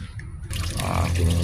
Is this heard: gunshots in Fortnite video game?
no